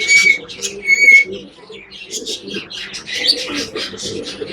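Young budgerigar chicks chirp in a rapid series of shrill, high-pitched calls, close up, with short pauses between bursts and a soft lower murmur underneath.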